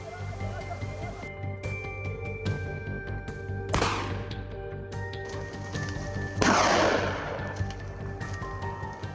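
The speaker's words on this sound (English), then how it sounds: "Shots rang out, and an adult went down in a flash." Two rifle gunshots during a wild boar hunt, sharp cracks a few seconds apart, set in steady outdoor background with music-like tones underneath.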